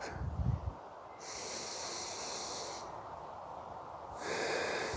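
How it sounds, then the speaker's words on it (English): Slow, deep breathing during a gentle yoga balancing stretch: a soft, close nasal snort-like inhale, then long hissing breaths drawn in and out, with no talking. "now breathe really deep"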